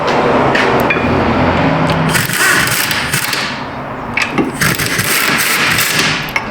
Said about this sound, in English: Whack that thing down for all it's worth.